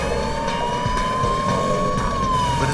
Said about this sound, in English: An ambulance loaded with SWAT personnel approaches the gang's van and attempts to disable the